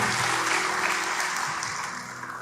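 Church congregation clapping together, a dense, close wash of applause that holds steady and then slowly fades toward the end.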